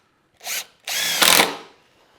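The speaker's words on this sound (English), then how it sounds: "So we're screwing off the strapping, and I've only got 2 or 3 screws left." A power drill whirs in two bursts, a short one then a longer run that strains and winds down, driving screws into greenhouse strapping; close and loud with no talk.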